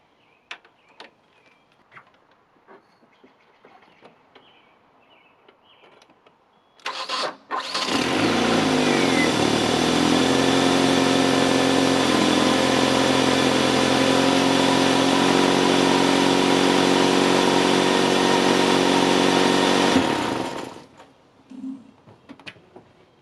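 A car engine cranks and catches after a Halo Bolt jump starter is connected, then idles loudly and steadily for about thirteen seconds before shutting off. Quiet clicks and rustling come before and after.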